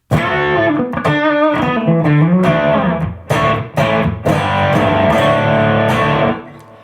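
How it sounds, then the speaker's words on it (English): Distorted electric guitar chords played through heavy effects and a ToneX Cab, notes washing into a long reverb that lingers and fades out at the end. "that's the reverb that keeps going"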